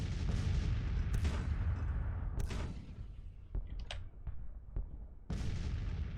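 Cannon artillery in the Grand Tactician Civil War video game fires over a constant low battlefield rumble, with several distinct sharp reports spaced irregularly, some near and some more distant.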